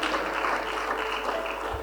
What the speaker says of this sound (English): Please keep clapping for her.